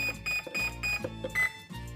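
Short electronic beeps from an RC boat's radio receiver repeat in a quick, regular pattern, close by and fairly clear, with one slightly lower tone near the end.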